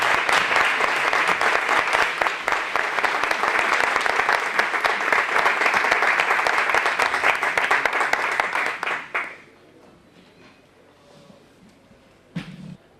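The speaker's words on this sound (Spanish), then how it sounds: "Un fuerte aplauso." Loud sustained applause from an audience at a cultural conference hall, steady dense clapping for about nine seconds that then drops away to near silence, with a brief faint knock near the end.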